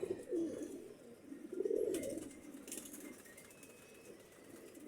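Pigeons coo nearby in a loft, their low, throaty calls rolling out in repeated swells with a soft flutter of wings between them, and no voices present.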